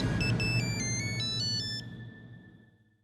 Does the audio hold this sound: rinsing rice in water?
no